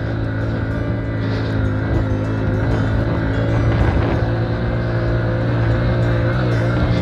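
Hero HF Deluxe motorcycle engine pulling hard in second gear off road, a loud continuous close drone with steady revs and slight rises, no voices.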